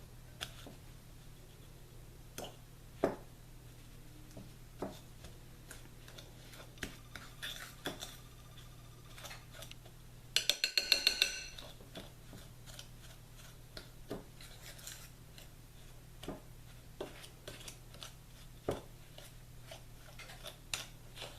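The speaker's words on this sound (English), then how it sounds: "you're just going to mix all of this together with a fork until it's a crumbly texture" A fork scrapes and taps against a bowl while mixing sugar, flour, cinnamon and butter into a crumbly topping: faint, irregular clicks spread out over a steady low hum, with a short cluster of quicker scrapes near the middle.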